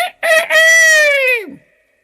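A single loud, close rooster crow, a short clipped opening followed by a long drawn-out note that falls away.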